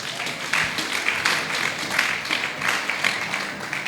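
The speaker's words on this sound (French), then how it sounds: "Est-ce qu'on peut acclamer pour la parole de Dieu?" A church congregation bursts into applause for the word of God, many hands clapping in a lively, continuous patter with slight surges, filling the room for several seconds without any speech.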